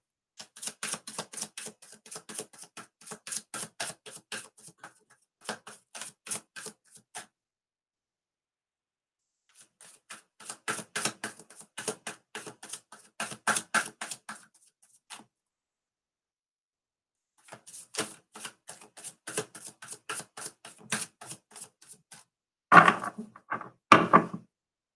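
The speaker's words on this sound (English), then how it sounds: "I'm going to shuffle a bit more." Tarot cards being shuffled by hand, heard as quick bursts of crisp riffling and slapping in several separate rounds with short pauses between them, ending in a few heavier knocks as the deck is squared.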